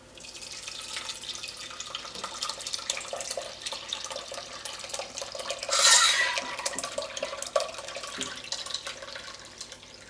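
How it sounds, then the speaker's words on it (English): Running water from a tap rinses chenna, fresh cheese curdled with lemon juice, with a steady splashing stream, a brief louder gush midway and a few drips, close by with no talk. "we need to wash at least 3 to 4 times to remove all the lemon extract"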